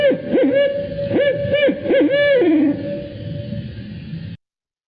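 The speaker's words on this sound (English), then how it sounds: "Yes, it is indeed a barred owl." A barred owl calls a loud, clear series of rhythmic hoots rising and falling in pitch, ending with a drawn-out descending note, heard alone without talking before cutting off.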